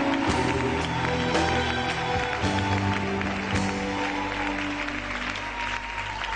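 A church congregation at a prophetic worship gathering claps and cheers in acclaim, sustained loud applause with scattered shouts filling the room close by.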